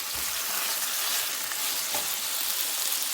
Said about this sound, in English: just kind of sear them up on the outside